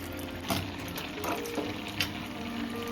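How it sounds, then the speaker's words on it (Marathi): Cashews fry in ghee in a small pan, giving a steady close sizzling hiss with a few faint clinks from stirring. "एक साईडला तर काजू फ्राय होतात मस्त आहे"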